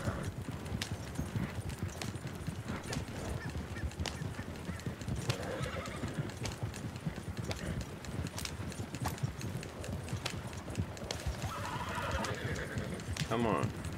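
Horse hooves clip-clop steadily with a whinny in Red Dead Redemption 2, a continuous close gallop under a busy game soundscape, with a voice speaking over it.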